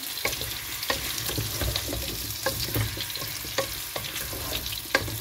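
Fish curry is sautéed in a pan on a Bangladeshi home stove, with a steady frying sizzle under repeated scraping and stirring strokes of a spatula, close and fairly loud throughout.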